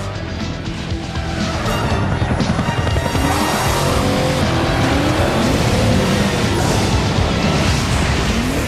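A Shelby Mustang codenamed Eleanor roars loudly, its engine revving hard with tire noise as it drives close by, no speech over it.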